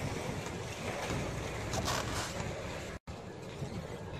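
Wind and surf along the Black Sea shore by the İhsaniye and Yeni Mahalle neighbourhoods of Adapazarı, a steady broadband roar of waves and gusting wind against the microphone, with a brief dropout near the end.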